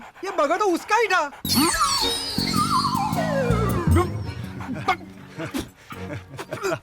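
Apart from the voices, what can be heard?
dog barking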